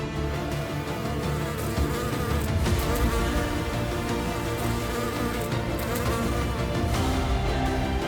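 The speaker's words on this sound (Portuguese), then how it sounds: "moscas," A swarm of flies buzzing loudly and continuously, a dense droning hum of many insects close by, steady for the whole stretch.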